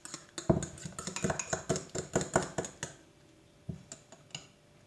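Spoon clinking and scraping against a dish while a homemade cough remedy paste is mixed, a quick run of close, crisp taps and scrapes that slows to a few isolated knocks.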